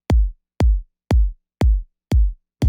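Kick drum after EQ, sounding round, warm and thumpy, struck six times at a steady, even pace, each hit loud and short with a quick low decay and silence between.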